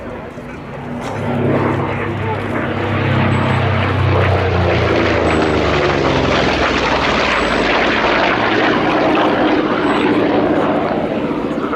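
A Corsair Mark IV warbird in Fleet Air Arm markings flies past at the Yeovilton air show, its piston propeller engine growling louder and sweeping by overhead, with an announcer talking over it.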